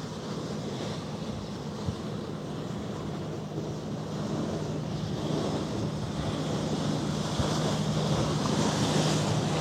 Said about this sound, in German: mit so ein bisschen Welle und Wind